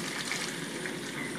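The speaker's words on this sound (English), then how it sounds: "I've already prepared some other DI water to pour" Deionized water pours steadily into a lab vessel to make a water bath, a continuous close gushing and splashing that runs without pause and with no one talking.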